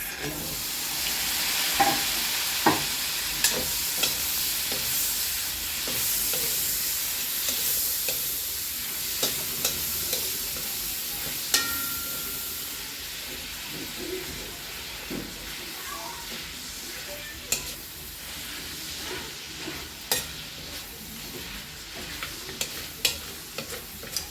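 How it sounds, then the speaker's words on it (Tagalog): Pakbet vegetables sautéed with fish sauce in a pan, a constant hissing sizzle with frequent spatula scrapes and taps against the pan, close and steady. "Gisa-gisa is the key ng pakbet."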